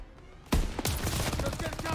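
Gunfire during the Battle of the Bulge mission in Call of Duty WW2: a sudden loud burst of rapid shots follows a quiet moment, with continuing crackling fire close by.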